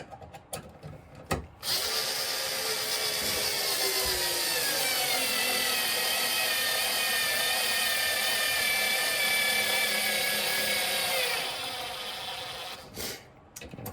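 A power driver runs continuously for about ten seconds, a strained whirring whine as a screw bores into a knot in the wood, preceded by short clicks and handling noises and ending with a few taps.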